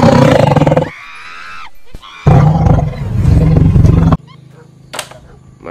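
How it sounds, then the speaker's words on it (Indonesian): A tiger roars in the video game Jurassic World Evolution 2, several loud, heavy growling bursts broken by brief quieter gaps, then a short higher snarl near the end, with no talk. "Wow, ini ada harimau teman-teman."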